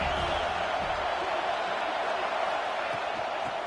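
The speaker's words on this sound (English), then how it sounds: "This crowd ready to make its presence known." A football stadium crowd roars in a steady, broad wash of cheering and whooping, dense and distant-sounding, with a commentator's voice talking over it.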